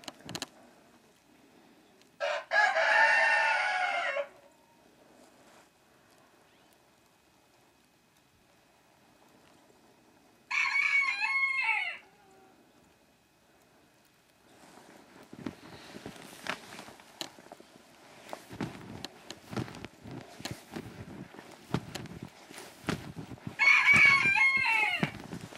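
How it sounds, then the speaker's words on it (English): Roosters crow in a few loud separate calls after about five snowbound days indoors, with quieter clucking, shuffling and footstep-like rustling building through the later part. "The roosters are mad."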